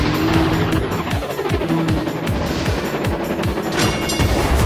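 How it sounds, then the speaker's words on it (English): A race car engine in a Thomas & Friends racing video game, a loud continuous revving whine with rapid repeated pitch sweeps as gears change, dense and close, with no talk. "Start up your engine."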